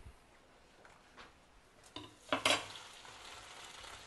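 Pasta is tossed and stirred in a pan with rendered pork fat, with faint sizzling, a couple of soft scrapes and then a sharper clatter and stir near the middle, all fairly quiet and without speech.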